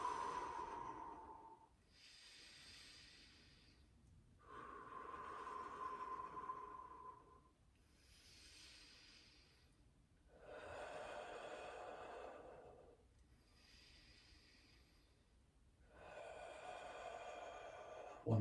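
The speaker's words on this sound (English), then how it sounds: "Deep breaths." Slow, deep breaths are drawn in and let out during a hip mobility exercise, repeating in a steady rhythm of about seven cycles. They are quiet and close, with no other sound.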